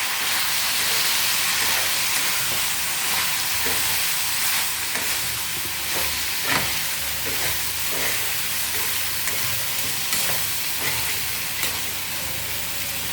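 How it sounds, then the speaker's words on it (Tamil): Chili powder sautéing with eggplant and drumstick in a hot pan gives a steady close sizzle and frying hiss with faint stirring scrapes, with no voices throughout. "அதையும் பச்சை வாசனை போக வதக்கிப்போம்."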